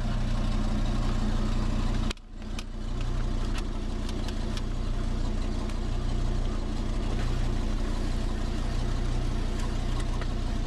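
A small engine idles steadily on wood gas from a homemade gasifier with a cyclone heat exchanger, a continuous low rumble with a brief dip early on, then an even, unbroken drone.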